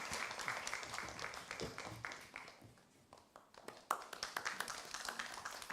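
An audience at a church growth seminar claps to welcome a guest forward, a dense, steady patter of applause with scattered sharper claps, fairly distant.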